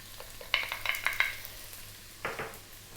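Garlic sizzles in hot oil in a wok, with a bright frying hiss and a few close scraping stirs and clinks that come in short bursts.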